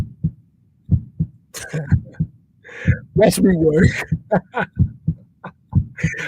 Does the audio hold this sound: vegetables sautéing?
no